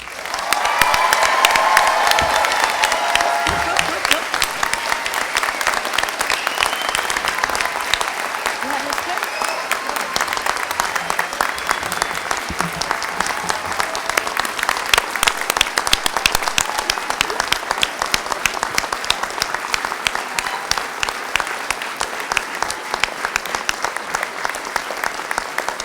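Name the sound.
applause for graduates at a university commencement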